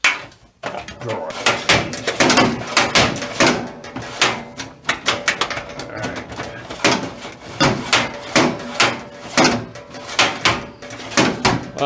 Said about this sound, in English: Drawer.